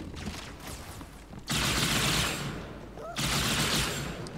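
Brute weapons firing in Halo 2: Anniversary, two loud broadband bursts of sustained gunfire that each cut in sharply and sound close, with quieter background battle noise between them.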